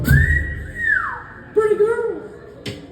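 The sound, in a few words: person whistling to imitate a pet bird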